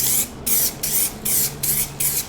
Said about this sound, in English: we're using spray gesso because it's an aerosol